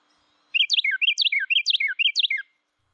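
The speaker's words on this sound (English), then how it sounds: "So they love to break out into song, and will even do so while on a feeder" A Carolina wren sings a rapid phrase of four bright, rolling whistled notes repeated in quick succession, crisp and close against near silence, lasting about two seconds.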